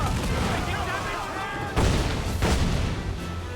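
Ship cannons fire in a naval battle in Assassin's Creed IV Black Flag, two heavy booms landing a second apart over a continuous rumble of battle noise, with shouting voices underneath.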